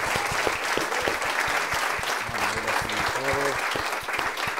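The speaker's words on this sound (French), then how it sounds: "vous pouvez vous applaudir" Applause from the audience at the end of a Star Wars comedy night show, sustained clapping with scattered louder claps and a few brief voices or whistles over it.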